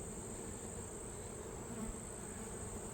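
Honeybees buzzing at an open hive during an inspection, a steady, faint, continuous drone of many insects with no breaks.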